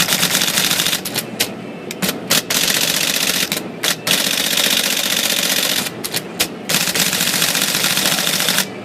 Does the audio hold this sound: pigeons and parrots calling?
no